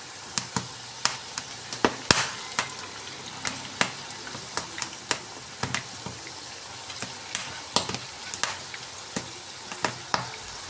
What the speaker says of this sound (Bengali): আবার আমি পরের ব্যাচে বাকিগুলোকে এরকম করেই ভেজে নেব